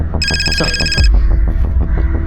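A telephone rings loudly for about a second with a bright, buzzing electronic trill, over a rhythmic, throbbing background score that keeps pulsing after the ring stops.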